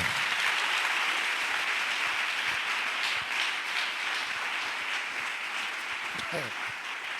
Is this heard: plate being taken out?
no